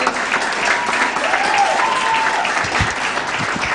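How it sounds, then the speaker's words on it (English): An audience claps steadily throughout at a moot court competition award ceremony, a dense, even wash of applause with no voices standing out above it. "Let's continue clapping until she gets to the podium."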